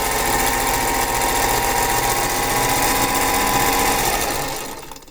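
A sewing machine runs steadily, close and loud, stitching a seam on an Aunt Eliza's Star quilt block, its continuous whirring motor holding for nearly five seconds before it slows and stops.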